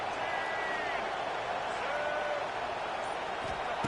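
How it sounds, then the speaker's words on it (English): Steady roar of a big stadium crowd in the College Football 26 video game, Virginia Tech at Miami, a constant broad wash of cheering with faint whistles, unbroken for the whole stretch. "Listen to the crowd energy here in the early going."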